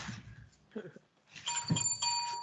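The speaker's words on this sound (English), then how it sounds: "There's the bell." A short bell chimes to close a wrestling podcast, ringing briefly with a bright sustained tone after a few quiet spoken syllables.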